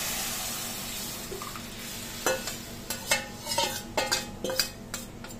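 Dal being stirred into fried spices in a pot, a soft sizzle under a series of sharp spoon-on-metal clinks and scrapes that grow more frequent toward the end.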